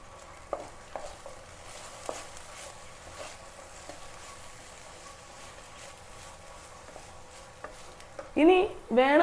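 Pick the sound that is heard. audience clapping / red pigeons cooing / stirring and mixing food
stirring and mixing food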